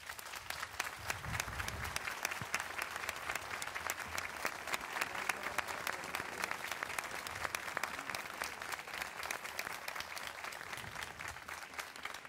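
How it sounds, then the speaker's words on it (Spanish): Sustained, dense applause from a large crowd, steady and loud throughout with no pauses. "para la cual vamos a darle este fortísimo aplauso"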